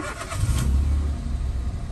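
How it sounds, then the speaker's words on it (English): Citroen C1 small car engine starting on the first try after sitting unused a long time, a brief crank that settles into a steady low idle rumble, close and fairly loud. "car starts on first time"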